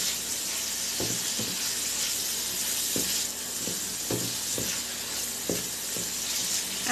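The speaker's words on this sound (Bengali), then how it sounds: "আর একটু ভাজা ওর নামিয়ে নেব।" Food for chicken fried rice frying in a pan, a continuous moderate sizzle and hiss with a few soft low knocks spaced through it.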